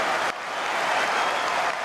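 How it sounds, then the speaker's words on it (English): Crowd applause and cheering at a professional boxing match, a loud, dense roar of clapping from a large arena audience that kicks in sharply after a brief moment and holds steady throughout. "I think you can hear the crowd reception, Justis."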